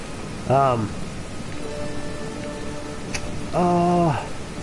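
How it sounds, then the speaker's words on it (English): Rain falls steadily in Shadow Warrior 2 as a constant hiss throughout, while two brief tonal cries rise over it and a faint hum runs in the middle. "It's raining!"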